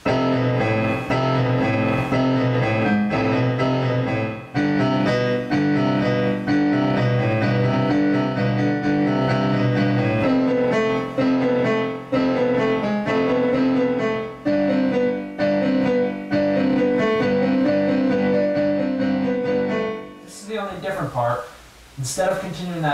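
Piano plays the Godzilla theme from Terror of Mechagodzilla with both hands together, a dense steady stream of repeated notes and low octaves, close and loud, breaking off near the end as a voice starts talking.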